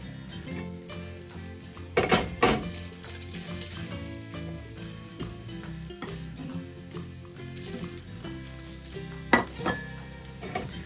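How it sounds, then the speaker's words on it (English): Vegetables tumbled into a pan of browned kielbasa and stirred, giving a steady sizzle with scraping and clattering of a utensil against the pan and two sharper clanks, no talk. "And this is browned, so I'm going to add the vegetables in."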